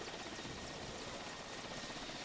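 A helicopter's rotor thumps steadily, a continuous loud whirring drone.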